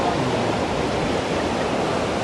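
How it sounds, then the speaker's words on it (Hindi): Fast-flowing mountain river water rushing loudly and steadily on a mountain walk near Kasol, a dense continuous roar with no pauses and no voices. "पुच्चू कितनी तेज बहाव है पानी का"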